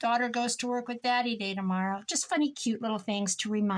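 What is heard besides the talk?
No distinct noise like a dog, phone or traffic.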